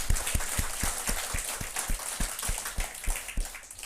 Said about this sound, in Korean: 우리 시간 우리 하나님 앞에 우리 감사의 박수를 한번 돌립시다